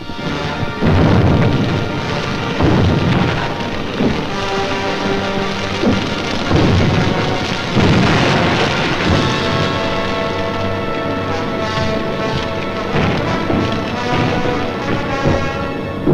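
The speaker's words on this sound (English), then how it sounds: "Millions of firebombs rained down on the great city of London." Firebombs falling on London during a Second World War air raid: a loud, dense, continuous roar of crackling, rumbling impacts and crashes, rolling on without pause for the full length.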